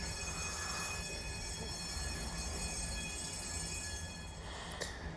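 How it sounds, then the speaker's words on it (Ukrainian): Trams rolling along Sakharov Street in Lviv, a dense continuous rumble and hum of wheels on rail with high steady squealing tones and a sharp screech near the end, close and loud, no voices. "Трамвайчики гудять, ну, вулиця Сахарова це завжди звук трамваїв."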